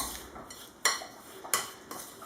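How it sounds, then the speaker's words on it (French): A spoon stirring no-bake cheesecake mixture in a bowl: a few sharp clinks of metal against the dish, about three distinct taps over a quiet, soft scraping background. "Je vais bien mélanger"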